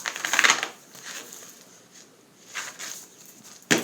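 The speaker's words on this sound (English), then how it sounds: "I'm just shuffling, pre-shuffling my last oracle." An oracle card deck being pre-shuffled before a reading gives brief riffling bursts at the start and again near the end, with a sharp snap at the close, fairly close and with no talk.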